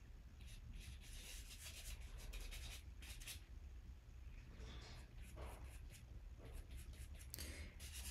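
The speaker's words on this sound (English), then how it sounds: "I'm going to add just a tiny bit of the compressed charcoal into the darkest areas" Compressed charcoal rubs across paper in a steady, close scratchy hiss while darkest areas of a drawing are filled in, continuous with faint fluctuations and no speech.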